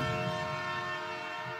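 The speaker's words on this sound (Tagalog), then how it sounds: "O yan, mandar na yung tren ha." LRT-2 light rail train rumbling past with a steady, loud mechanical drone and faint tonal whine throughout, with no voices over it.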